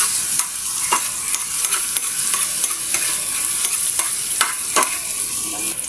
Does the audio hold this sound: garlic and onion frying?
yes